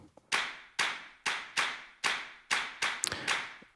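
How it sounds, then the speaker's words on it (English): Sharp, dry claps from the production of a pop song, struck alone in a steady rhythm of about eight hits, each with a short decaying tail. "later on, it builds and it gets into this like claps part"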